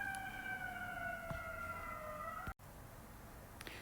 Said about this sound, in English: Apologies if you can hear the sirens that are happening outside my apartment right now